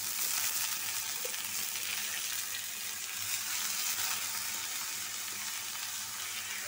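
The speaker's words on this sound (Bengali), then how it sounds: "পেঁয়াজ রসুন লাল হয়ে গেছে, এই যে ডালটা দিয়ে দিব।" Onion and garlic fried until reddish in a pan, then soaked, washed lentils tipped in, giving a steady, close sizzle that holds at an even level throughout with no talking.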